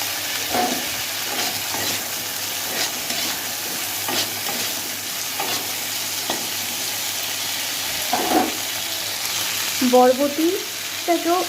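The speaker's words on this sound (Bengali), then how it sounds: "বরবটিটাকেও বেগুনের মতো ভেজে নেব লাল করে।" Long beans fry in a pan of hot oil salted and spiced with turmeric, a steady sizzle with intermittent stirring scrapes throughout, growing a little louder near the end.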